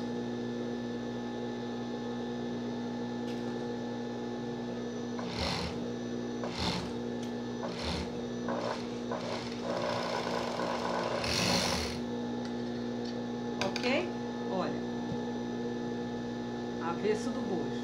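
A sewing machine stitching fabric to close a bra cup runs in short, separate bursts over a steady electrical hum, with someone speaking between the runs.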